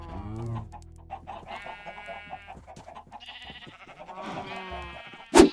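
Chickens cluck and sheep bleat in modded Minecraft, several close calls overlapping and trading off, with a sudden loud thump at the end.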